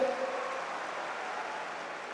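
Steady crowd applause from an audience at a 2022 student merit award ceremony, a dense even clapping wash sustained throughout at moderate level with no break.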